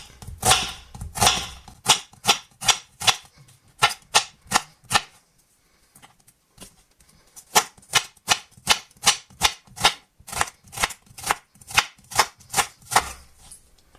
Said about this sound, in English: I've got a medium-sized onion here. So let's cut it up.